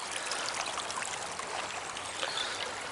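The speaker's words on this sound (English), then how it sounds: "How awesome is this little babbling brook, eh?" A small babbling brook on a park nature trail trickles and splashes steadily, a continuous close, even rush of flowing water with no voices.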